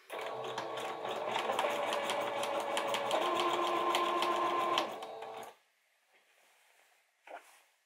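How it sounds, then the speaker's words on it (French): A sewing machine stitches wedding dress fabric in a fast, steady whirring run lasting about five seconds, then stops, followed by faint handling noise and a brief knock. "je vais juste essayer de faire une sorte de micro couture là pour pincer le tissu"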